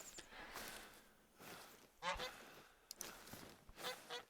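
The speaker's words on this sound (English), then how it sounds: "Sounds like a goose up there." A goose honks from up a hill, several separate honks spread across a few seconds, faint and distant over quiet outdoor background.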